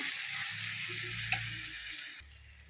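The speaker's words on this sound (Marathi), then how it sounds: "तर बघा मसाला परतून झालेला आहे" Sambar masala frying and being stirred in a pan for South Indian sambar, a dense continuous sizzle with a single soft knock of the spoon midway and a slight drop in hiss near the end.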